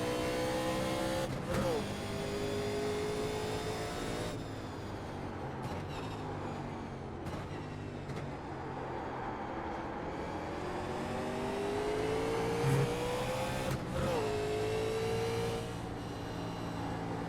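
A race car in the iRacing sim at Watkins Glen, its engine droning loudly and steadily with rising and falling pitch through gear changes, close and continuous, with no talking.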